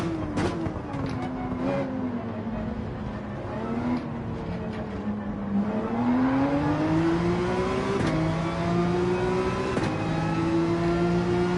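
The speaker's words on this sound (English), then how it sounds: "Gotta make sure we rev out this 911" A Porsche 911 engine in the Gran Turismo 7 video game revs and climbs through the gears, a loud continuous drone with rising pitch and brief drops at shifts, heard alone without speech.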